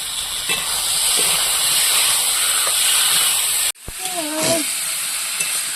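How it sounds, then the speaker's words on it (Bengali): Potatoes, masala and tomatoes sautéing in a pan for a home fish curry, a loud steady hiss and sizzle that breaks off abruptly, then resumes with a few stirring scrapes and brief squeaky tones. "আলুর সাথে ভালো করে কষিয়ে নিলাম দু তিন মিনিট"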